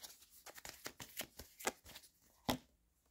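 Tarot cards are shuffled close to the microphone, giving a quick run of soft riffling flicks and slaps in an irregular rhythm, ending with one sharper snap, with no voices.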